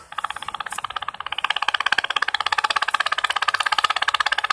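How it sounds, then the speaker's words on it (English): Analog scanner picking up a DMR digital radio transmission, a steady buzzy pulsating drone with rapid, evenly spaced beats like a helicopter rotor, loud and continuous with no talk. "You can even hear the pulsating of the digital signal coming through."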